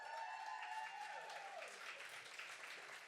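An audience at a book reading and conversation applauds to welcome an author, with dense steady clapping that thins slightly toward the end under a faint tone.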